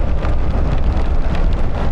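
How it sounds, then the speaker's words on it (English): Dense, loud hiss of heavy rain in a rainstorm, pelting the rider during a ride, mixed with wind and road noise, no talking. "This rain is pelting my neck"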